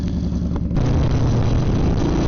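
A motorcycle engine idles close by, a loud steady low rumble that fills the short stretch with a slight rise partway through.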